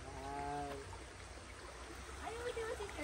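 Quiet, steady rushing of stream water flows at a natural swimming spot in Nepal, faint and continuous, with a voice speaking over it.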